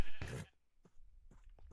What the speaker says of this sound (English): Dumbass horse.